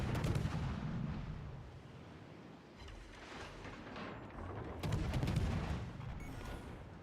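Heavy naval gunfire booms out in World of Warships: Legends, loud rumbling blasts swelling near the start and again around the five-second mark over a constant low battle din, with no talking.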